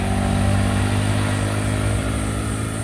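Motorcycle engine on a steep village road in Polobogo, Getasan, a steady mid-pitched drone holding close and fairly loud throughout without a break.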